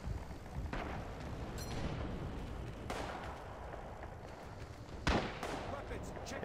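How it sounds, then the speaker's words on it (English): Distant mortar and artillery fire in the World War II shooter Rising Storm, with a few dull booms and sharp blasts over a constant rumbling battlefield background; one louder impact stands out near the end. "I hear a mortar."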